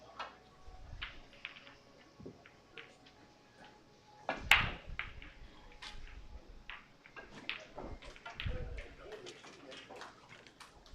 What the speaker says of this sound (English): I do apologize if you get background noise once in a while. I do have a parrot at home